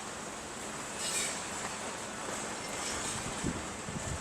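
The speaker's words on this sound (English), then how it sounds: "It's that wind." Steady wind rushes and buffets the microphone outdoors at a plant nursery. The roar is broadband and constant, swells briefly, and has no talking over it.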